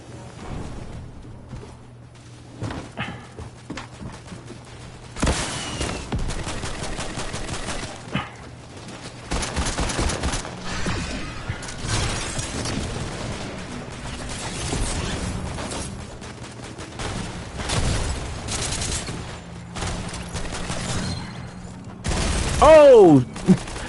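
Rapid bursts of Fortnite gunfire and mechanical weapon clatter come in dense, loud stretches over about twenty seconds, mixed with game effects and occasional talk.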